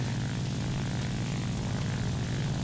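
A propeller aircraft engine in the War Thunder combat game drones loud and steady throughout, a dense, rumbling roar with no voices.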